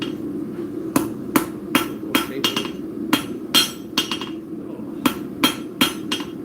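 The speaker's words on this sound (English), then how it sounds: "Use the anvil." Hammer striking metal on an anvil during craft work, sharp close metallic blows in loose irregular groups, some quick double taps, over a low background hum with no talking.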